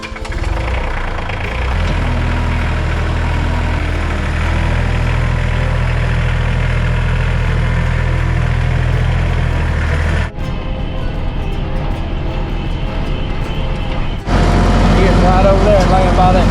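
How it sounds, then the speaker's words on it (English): A tractor engine idles close by on a hunting property, a steady low rumble that shifts briefly near the end, then resumes. "we're gonna take the tractor down there because I'm too lazy to drag it back"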